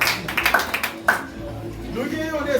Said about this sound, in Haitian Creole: Applaudissez tout le monde.